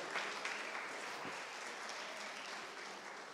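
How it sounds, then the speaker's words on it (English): A church congregation clapping at a worship service, a soft, steady wash of many hands heard from a distance, quiet and continuous without voices over it. "Just clap for God."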